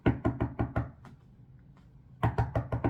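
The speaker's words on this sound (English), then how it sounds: "So she knocked twice. Not just once, but she knocked twice, child." Rapid knocking on a door comes in two bursts of about five firm, evenly spaced raps each, separated by a short pause and heard up close.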